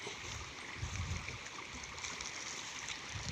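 Canal water pumped into a dry rice field flows in a steady, faint rushing wash with low gurgling underneath, continuous and unbroken.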